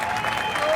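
A crowd at a political gathering claps in a brief burst of dense applause, heard from within the audience.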